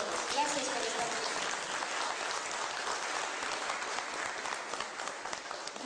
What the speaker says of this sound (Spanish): Yo quiero que se den un fuerte aplauso porque son nuestros invitados de honor.